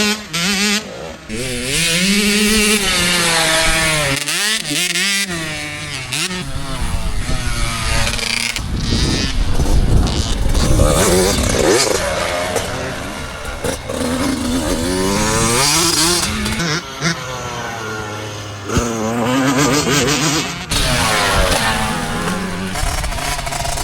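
Enduro motorcycles race at a club round, engines revving hard and rising and falling in pitch as bikes pass close by, loud and continuous with no talk.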